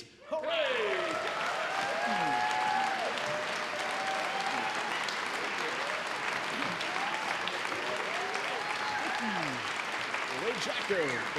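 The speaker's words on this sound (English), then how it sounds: "Don't rush that applause now." Sustained applause from a barbershop convention audience, a dense wash of many hands clapping at steady volume, with some voices and whoops mixed in throughout.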